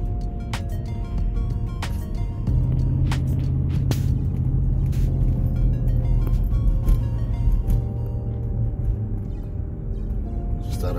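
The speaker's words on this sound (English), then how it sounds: "Thought we'd get in a few minutes of us rolling with the truck." A 2006 Ford Expedition with a V8 rolls along the road, giving a steady low cabin rumble and road drone that holds at an even level throughout, with a few faint tonal sounds above it.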